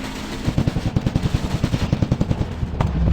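Rapid automatic gunfire in the video game Commando Strike, a loud, close, evenly spaced burst of shots lasting a few seconds.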